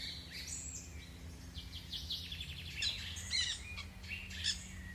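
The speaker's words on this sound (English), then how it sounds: "Beautiful parrots are up in my palm trees in South Florida." Wild parrots call from palm trees in South Florida, a scatter of bright chirps and squawks, some overlapping, fairly distant over a low steady background hum.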